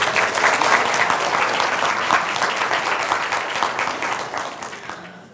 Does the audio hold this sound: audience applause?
yes